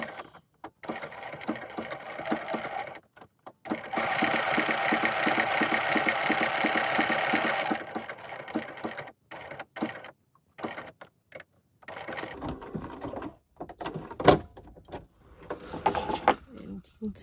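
A sewing machine stitches around a heart shape on a decorated gift card holder with 12 weight thread, one steady run of about four seconds followed by short stop-start bursts and handling noise.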